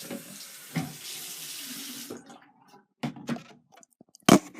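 Water from a tap runs steadily into a sink for about two seconds, then stops; brief splashes and handling clatter follow, with a louder knock near the end.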